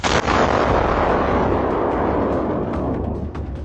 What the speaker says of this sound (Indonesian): Ia adalah sebuah peluru berpandu jelajah Rusia yang terbang 100 km ke dalam sebuah negara NATO dan melepaskan suar di sepanjang perjalanan.